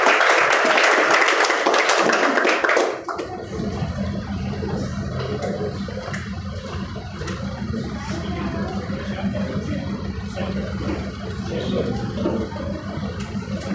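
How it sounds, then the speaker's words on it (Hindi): Loud, dense applause from an audience at a Sadbhav Diwas event at a coaching institute in Purnia, filling the first three seconds, then settling into a softer, steady crowd murmur with lingering claps. "जोरदार तालियों के साथ स्वागत।"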